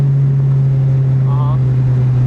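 A tuned Acura RSX Type S with Kpro V4 and launch control pulling in second gear, heard as a loud steady engine drone from inside the car with wind rush over it.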